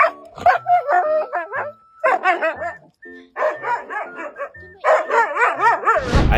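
A dog greets its owner coming home late at night with a rapid run of excited barks, yips and high whimpers, loud and close, pausing briefly before bursting out again.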